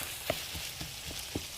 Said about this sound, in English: Now I'm just stirring that in.